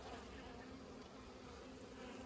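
Honey bees in a top bar hive during a spring inspection give off a soft, continuous buzzing hum, faint and steady, with no voices.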